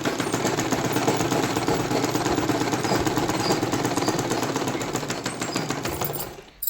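A sewing machine runs continuously at high speed while stitching a lined blouse, a dense, loud, rapid mechanical rattle held steady for several seconds before slowing and stopping at the end.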